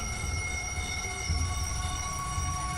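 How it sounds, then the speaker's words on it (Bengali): A local train pulls into a station late at night, its horn held as a steady, sustained tone over a continuous low rumble of wheels and carriages. "সেই রাত 12:05 লোকাল হর্ন দিতে দিতে স্টেশনে ঢুকছে।"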